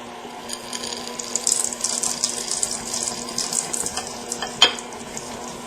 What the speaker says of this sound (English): Now I'm going to stir in 350 grams of semi-sweet chocolate chips.